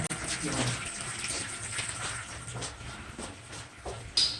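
Water keeps trickling and splashing from a pipe after its valve has been shut, faint and uneven, with a soft noisy wash and occasional small spatters, no voices over it.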